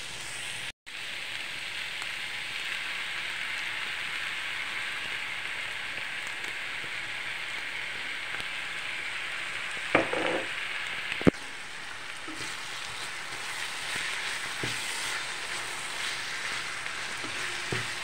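Tomato sauce and browned ground meat for spaghetti Bolognese simmer and sizzle in a pan, a steady crackling hiss throughout with a few sharp stirring clinks midway.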